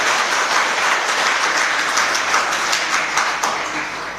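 An audience claps steadily during a Jain religious discourse, many hands beating in a thick, sustained ovation close by that eases off slightly at the end.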